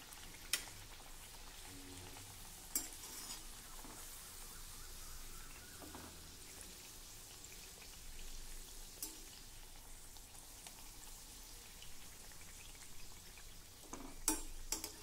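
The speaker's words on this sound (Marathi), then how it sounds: "एका वेळी तेलात सहज मावतील एवढ्या पुऱ्या घाला आणि गॅसची फ्लेम अगदी मंद ठेवा।" Sweet jaggery puris deep-frying in oil on a low flame make a soft, steady sizzle and fine crackle throughout, quiet and continuous, with a few faint clinks.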